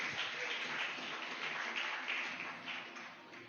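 Church congregation applauding during a worship service, a steady dense wash of clapping throughout that eases slightly toward the end.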